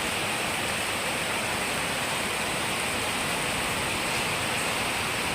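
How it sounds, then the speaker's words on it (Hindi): Heavy monsoon rain pouring down steadily in Chapra, a dense, constant roar of falling water with no breaks, loud and close throughout. "देख सकते हैं बहुत ही तेज बारिश हो रही है।"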